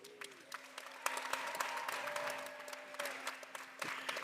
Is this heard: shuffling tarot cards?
no